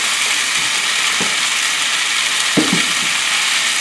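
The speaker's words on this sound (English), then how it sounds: "Let's get the pasta a little stir fry." Jumbo shrimp and pasta stir-frying in a hot pan give a loud, steady sizzle throughout, with a few brief clacks of a utensil stirring against the pan.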